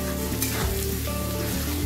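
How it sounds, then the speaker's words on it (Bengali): Thinly sliced onions sizzle in hot oil in a pan after potatoes were fried, making a loud, constant crackle with a low background hum and no talking. "পেঁয়াজটাকে ভালো করে লাল লাল করে ভেজে নেব।"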